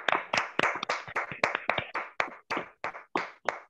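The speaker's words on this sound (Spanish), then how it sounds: "nos despedimos a Néstor con un fuerte aplauso" A single person claps at close range in a slightly irregular series of about fifteen sharp, distinct hand claps, loud and isolated, as a farewell applause at the end of an online talk.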